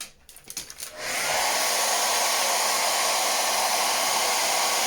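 Hair dryer blowing on a painted wooden birdhouse, starting with a short sputter and then settling into a loud, steady, close whoosh that runs unbroken to the end.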